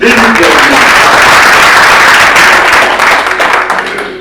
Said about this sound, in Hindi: एडवोकेट आनंद सर के लिए जोरदार तालियां।